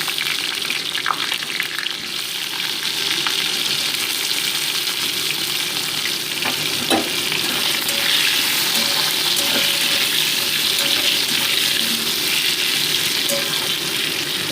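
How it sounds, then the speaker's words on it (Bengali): Potato pieces frying in hot oil in a wok, a loud, steady sizzle that carries through without a break, with occasional faint stirring knocks. "এই আলুগুলোকে গোল্ডেন ব্রাউন করে আমি ভেজে নেব"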